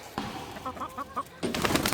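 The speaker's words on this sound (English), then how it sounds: "Here's their chickens." Chickens on a farm in Arizona clucking, with a few short, separate calls close by, a knock and a louder burst of scratchy noise near the end.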